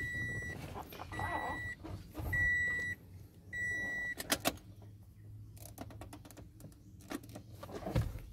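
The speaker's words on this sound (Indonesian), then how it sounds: "Sekarang kita coba hidupkan turbo timernya, sudah bekerja apa belum." A turbo timer being switched on in a manual Toyota Innova 2.4 diesel gives a series of evenly spaced electronic beeps. Clunks and clicks from inside the cab and a low rumble follow.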